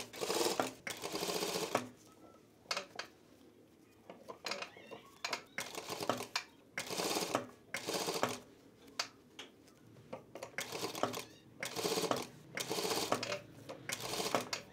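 A domestic sewing machine fitted with a zipper foot stitches through thick sweatshirt seams in several short bursts, each run starting and stopping with a brief locking stitch, loud and close with pauses of handling in between.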